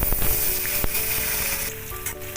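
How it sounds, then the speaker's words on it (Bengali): Salt-rubbed potatoes hit hot oil already tempered with chillies, giving a loud, steady sizzle throughout, with a brief clatter near the start and no talk. "এবারে নুন মেখে রাখা আলুটা দিয়ে দিলাম"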